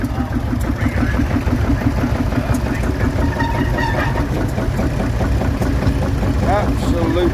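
A vintage Marshall tractor runs at an agricultural show, its engine loud and close with a steady, heavy low-pitched thumping rhythm throughout, while voices can be heard faintly beneath it.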